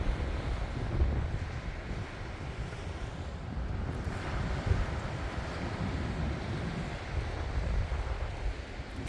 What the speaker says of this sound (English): You could probably hear the wind whipping a little bit